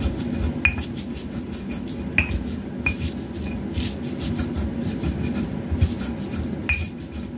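Steamed tempeh for tempe mendol is mashed in a bowl with a utensil, giving steady rubbing and grinding. Scattered metallic clinks ring out close by.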